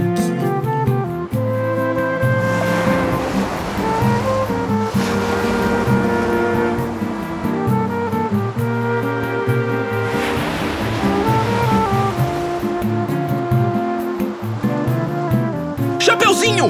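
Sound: sea waves

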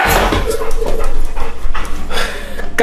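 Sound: dog panting and whimpering

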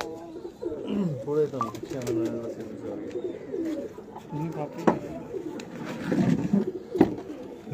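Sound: pigeons cooing during selection of high-flying pigeons

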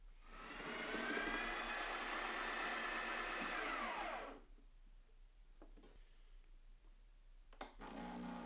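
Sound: Breville espresso machine brewing an espresso

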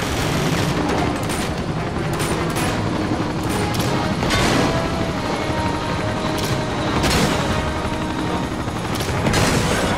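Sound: helicopter in video game Uncharted 2

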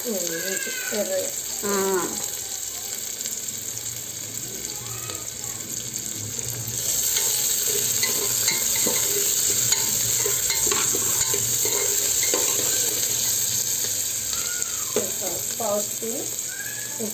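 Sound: onions frying and being stirred for mutton curry

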